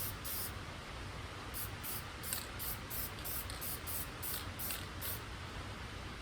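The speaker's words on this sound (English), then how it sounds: "A little bit of black spray paint for it." A steady hiss of black spray paint from an aerosol can over fresh metal on a 1955 Buick Special, with the nozzle pulsing in short bursts over several seconds; close and fairly quiet, no voices.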